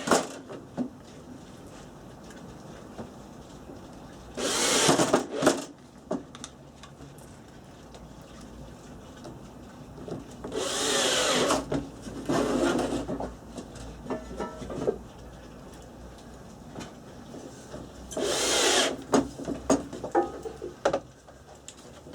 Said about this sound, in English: I'm just going to put some screws in,